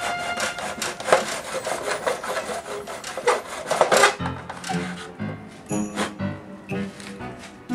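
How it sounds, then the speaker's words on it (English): A hacksaw rasps back and forth through a metal blind tube cut to picture-frame width, close and steady strokes for about four seconds, then a few slower, sparser scrapes and knocks. "I'm just going to use my hacksaw here, and I'm going to cut it to measure exactly inside the width of this picture frame"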